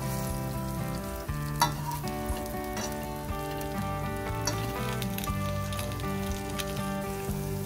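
Garlic bread stuffed sandwich fries in a pan with mozzarella cheese, a steady close sizzle with light scraping clicks as a fork turns it and loosens the cheese, no talk.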